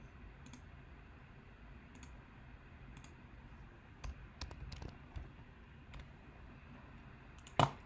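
A computer keyboard sounds in quiet, sparse keystrokes and clicks while a user enters values in CAD software, with a sharper click near the end and no talking.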